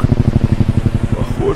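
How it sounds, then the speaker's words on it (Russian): Rapid, regular thumping of helicopter rotor blades in Minecraft, a rhythmic chop that pulses steadily and fairly loud before fading slightly at the end. "Похоже, это вертолет."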